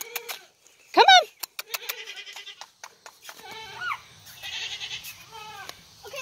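Goats that have got loose near a cow field bleat in a loud, wavering cry close by, followed by further fainter bleats over scattered knocks and background farm noise.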